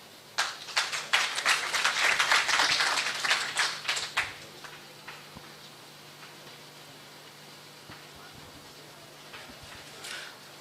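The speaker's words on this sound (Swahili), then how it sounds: "Haya, so makofi tena kwake" An audience at a county best practice award forum claps for a speaker, a burst of applause lasting about four seconds that then fades out, with a few scattered claps afterward.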